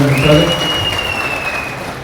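Audience applause at a BRS party workers' meeting in Station Ghanpur municipality, a steady wash of many hands clapping at moderate distance throughout, with a faint whistle-like tone and some murmuring voices underneath.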